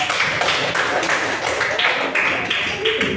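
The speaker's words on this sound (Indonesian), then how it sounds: "Kasih tangan, kasih aplaus dong untuk Radit" An audience claps for Radit at a talk or class session, with steady, quick hand claps that are fairly close and continue throughout without speech.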